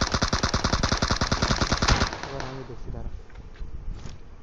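An M249 machine gun in a video game fires a fast, loud burst of evenly spaced shots for about two seconds. The burst cuts off and leaves quieter game sounds and a voice.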